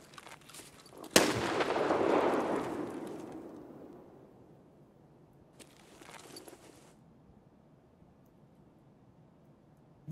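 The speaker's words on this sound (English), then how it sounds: "Just threw a nade at me." A grenade goes off in Escape From Tarkov: one sharp blast near the start, followed by a rolling rumble that fades over a few seconds, then a second, quieter burst a little later, with no voices.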